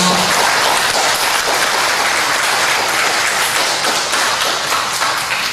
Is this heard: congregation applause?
yes